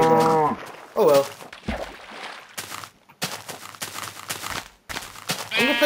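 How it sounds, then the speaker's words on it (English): Minecraft cow moos in a few low, drawn-out calls, close and distinct, separated by scraps of game noise and quiet gaps. "I'll kill this cow."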